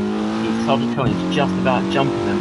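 A touring race car in a racing video game pulls out of the pit lane with a steady engine whine running under continuous commentary.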